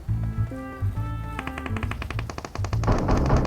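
Rapid automatic gunfire in the mobile battle-royale game PUBG Mobile, fired in fast repeated bursts that grow denser and louder toward the end, with a voice heard briefly near the start.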